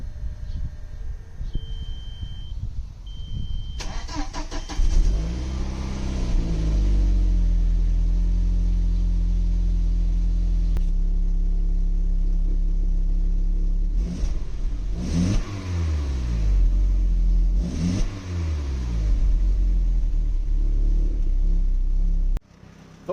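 Audi B5 A4 with a big turbo and stock exhaust revved repeatedly to about 3000 RPM, a loud close engine rising and falling in several long pulls over a steady idle, no talk.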